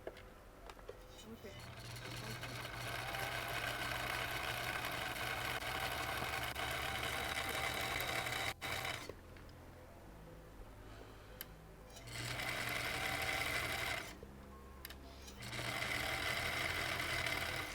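A 50-year-old Husqvarna sewing machine runs in fast buzzing bursts, a close, steady mechanical whir that stops and restarts several times, with short quiet gaps between runs.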